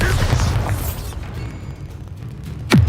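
Bombarda blasting spell in Hogwarts Legacy: a deep, rumbling explosion boom with a dense low roar that fades, then a sharp sweeping burst near the end, loud and close.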